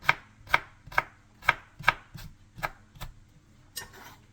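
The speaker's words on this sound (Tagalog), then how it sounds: "So, maninipis lang itong ating hiwa na maliliit." Knife chopping sour mango into thin, small slices on a board, crisp evenly spaced cuts in a steady rhythm, about nine distinct chops, close and clear with no talking.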